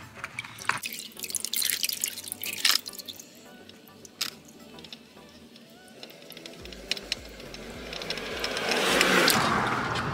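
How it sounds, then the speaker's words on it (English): Dark used engine oil from a 10th generation Honda Civic Si drains into a pan, heard as scattered drips and wet splatters with a faint steady trickle that grows toward the end. "Let the oil seep into it."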